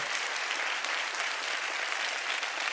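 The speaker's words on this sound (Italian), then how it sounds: "Facciamo un applauso però anche alle ragazze, a tutto lo staff tecnico" An audience at a comedy show gives steady, dense applause throughout, loud and even, with no voices on top.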